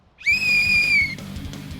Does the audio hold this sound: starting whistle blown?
yes